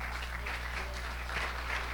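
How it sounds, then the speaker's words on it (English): Faint applause from a small audience at a wellness talk, soft scattered clapping under a steady low hum from the room. "A round of applause for"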